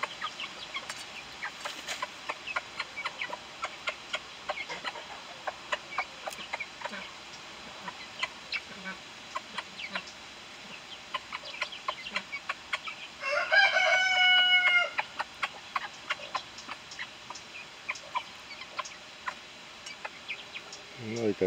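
A hen and her month-old chicks feed, the chicks keeping up a dense stream of sharp peeps over soft clucking, with a louder crowing-like call rising briefly midway.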